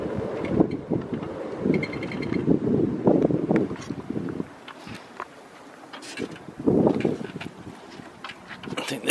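Choppy, gusting wind buffets the microphone around a DIY wind turbine spinning in 25 mph-plus winds, loud rumbling surges that drop away briefly and then return.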